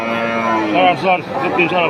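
Cattle mooing at a busy village market cattle fair in Sorarchar bazaar, Bangladesh: loud, drawn-out, nearby calls, with a steady murmur of crowd voices beneath.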